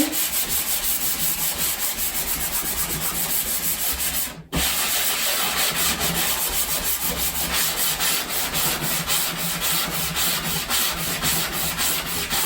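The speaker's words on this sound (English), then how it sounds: "I'm just gonna lightly sand the lettering." Wooden lettering on a harvest hanger sign being lightly sanded: a continuous close, rasping rub with a brief pause partway through, then more steady sanding, with no talking.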